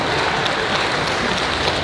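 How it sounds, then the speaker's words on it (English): A convention crowd at a Q&A session claps in a dense, even burst of applause that holds steady at close range, without voices. "Round of applause for"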